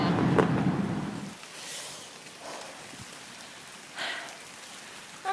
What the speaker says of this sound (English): can you see the rain on the water there?